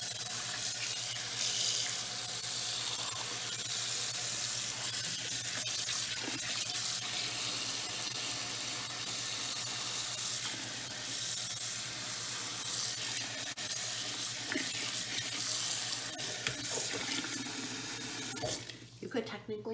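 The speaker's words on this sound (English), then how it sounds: "Let's go wash it. So obviously it's hot. Use some cold water." Tap water runs steadily into a hot pot of Korean beef short rib stew contents as cold water rinses it, a constant hissing wash with faint sizzle throughout that cuts off abruptly at the end.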